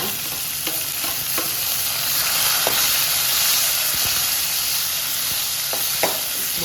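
Chopped onions fry in a hot pan for paneer butter masala, a steady close sizzle running throughout with occasional soft clicks and scrapes of stirring, no talk.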